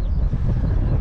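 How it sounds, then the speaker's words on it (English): Heavy wind buffets the microphone with a loud, low rumble that gusts unevenly throughout. "it is quite windy at the moment"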